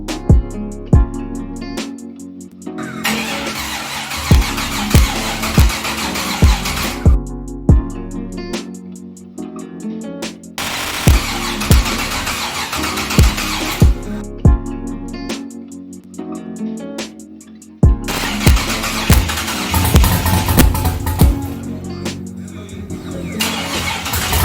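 An LS-swapped B-body car cranking and firing up, with repeated loud starter bursts and engine catches, the V8 settling into a deep, lumpy idle between attempts, close and alone without talking.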